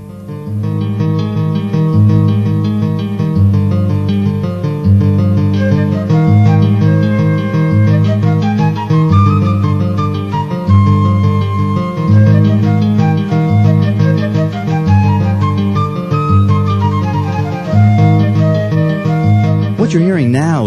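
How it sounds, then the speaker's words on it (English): Kurzweil 250 synthesizer music in a keyboard split, a plucked acoustic guitar part in the low range and a flute melody rising and falling above it, played continuously without voices. "an example of a simple keyboard split, with acoustic guitar on the left and flute on the right"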